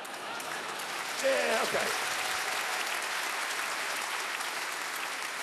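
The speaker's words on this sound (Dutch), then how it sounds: "Matig applaus, hoor." Moderate applause from a theatre audience at a Dutch-language show, a steady wash of clapping throughout, with someone speaking briefly over it near the start.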